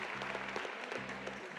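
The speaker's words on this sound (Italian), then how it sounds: "Un applauso a Filippo Carnovalini." Audience applause for a participant at the Enactus Italia National Competition 2022, a fairly quiet, even patter of many hands with a low steady hum beneath it.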